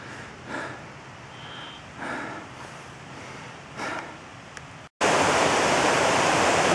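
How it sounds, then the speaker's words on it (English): Heavy, rhythmic breathing gives way to a sudden, loud, steady rush of a creek running beside a house in the rain. "That's a creek that runs by my house."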